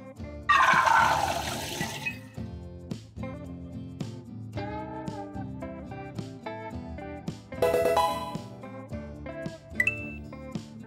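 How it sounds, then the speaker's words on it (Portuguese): Soaking water poured off almonds in a raw vegan kitchen, a gushing splash at the start and another burst later, between quieter clinks and handling of dishes, close and fairly loud. "descartar a água em que as amêndoas estavam demolhadas"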